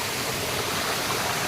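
Rushing water of Erakampalem waterfalls viewed from above on a trekking trail, a steady broadband roar with no pauses, continuous and fairly even throughout.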